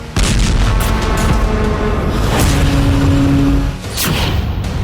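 Loud, deep booming rumbles of an explosion in Delhi roll through continuously, with heavy low-end blasts and a sharper burst near the end; no voices are heard.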